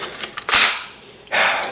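Two sharp, loud cracks from a Mossberg Blaze 47 .22 long rifle ring out about a second apart at an outdoor range, each with a short fading tail.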